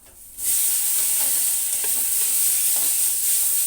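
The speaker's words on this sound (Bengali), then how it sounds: "এবার ভালো করে মশলাটা কষিয়ে নেব। এবার দিয়ে দেব কেটে রাখা টমেটোগুলো।" Spice paste with chopped tomatoes frying in a pan, a loud, steady sizzle with occasional stirring scrapes, close up and without talk.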